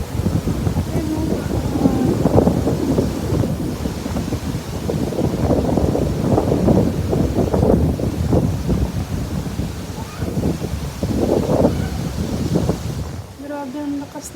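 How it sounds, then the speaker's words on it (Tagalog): A heavy rainstorm pours with gusting wind, a loud dense roar of rain and buffeting air that surges and eases before briefly dropping away near the end. "Heavy talaga, heavy rain."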